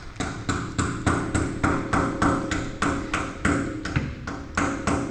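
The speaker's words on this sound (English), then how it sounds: "Nothing more exciting than watching somebody chisel a broken bolt out." Sharp, evenly spaced metallic hammer blows ring out as a chisel drives a broken bolt out of an old tractor, about two strikes per second, loud and close.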